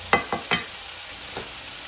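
Pork pieces frying in a pan, with a few close scraping stirs over a soft sizzle.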